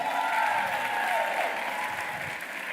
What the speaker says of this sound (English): Round of applause for those two, please.